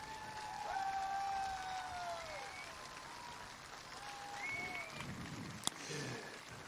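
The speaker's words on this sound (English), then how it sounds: "please, one more round of applause for our two families here tonight" Crowd applause in the grandstands at Boone Speedway during a Salute to Veterans Tour night, a steady far-off wash of clapping with faint whistles and cheers rising above it, then tapering slightly.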